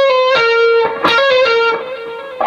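Distorted electric guitar plays a fast blues riff with a picked note, a hammer-on and quick pull-offs, loud and close, the notes running together with a sustained lead tone.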